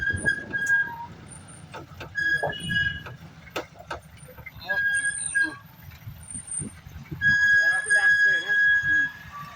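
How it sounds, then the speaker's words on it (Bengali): Another vehicle approaches on a mountain road during a motorcycle ride, with engine rumble and traffic noise, horn-like tones and brief beeps rising over the steady ride noise while people talk. "আরেকটা গাড়ি আসতেছে এটা সাইড হয়তো"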